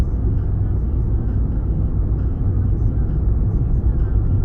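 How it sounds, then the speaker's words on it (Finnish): Cars riding on a trailer pass by on a street, heard as a loud, steady, low rumble of engine and road noise that fills the whole stretch, with a voice faintly under it. "Siellä menee autoja peräkärryssä."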